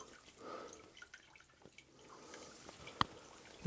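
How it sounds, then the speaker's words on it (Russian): Water trickles in a small stream into the cellar of an abandoned house in an Old Believers' village, a quiet, soft flow with scattered drips and a couple of sharper taps, no voices. "Тут вода течет. Прямо ручейком."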